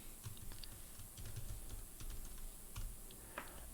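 Quiet, irregular tapping of fingers typing on a computer keyboard, soft clicks in short bursts.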